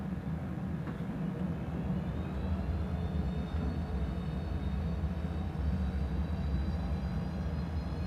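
Jet airliner engines in a flight simulator throttle up on the runway for takeoff from Melbourne, a steady low rumbling roar with a faint rising whine layered above it, continuous and moderately loud.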